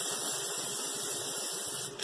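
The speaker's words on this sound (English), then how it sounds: "Actually, I'm going to spray the pan." Cooking spray hisses steadily from an aerosol can onto a pizza pan lined with parchment paper, one continuous close spray lasting about two seconds before cutting off.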